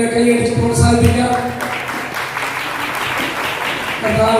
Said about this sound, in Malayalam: നമുക്ക് എല്ലാവർക്കും ചേർന്ന് കുഞ്ഞുങ്ങളെ കൈയടിച്ച് പ്രോത്സാഹിപ്പിക്കാം